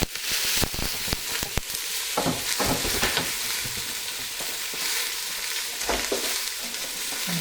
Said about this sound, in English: we're going to let it cook and brown for around 10 minutes